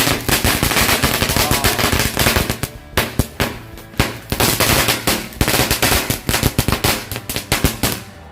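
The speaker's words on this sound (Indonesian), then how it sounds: "yang selanjutnya kita nyalain mercon panjang green lighting" A long green lighting firecracker string going off outdoors, a loud rapid chain of sharp cracks and bangs that bursts in dense clusters, thins briefly, then resumes in irregular volleys.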